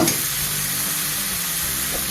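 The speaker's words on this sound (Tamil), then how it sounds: "தக்காளி போட்டு தக்காளி நல்லா வதங்கணும்" Tomatoes sizzle in a hot pan for a dal dumpling kuzhambu, a steady close frying hiss with soft stirring underneath and no voices.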